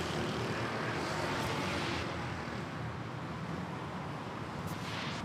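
A China Airlines airliner at Manila airport gives a steady, loud broadband engine roar that holds evenly throughout, with no voices.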